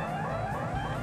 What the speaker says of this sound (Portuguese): Caraca, e essa sirene aqui?